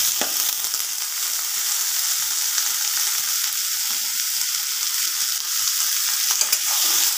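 Spicy cauliflower with poppy seed paste and plenty of onions, cooked dry without gravy, sizzles steadily in a pan while being stirred, with soft scraping strokes over the continuous frying hiss and no talking.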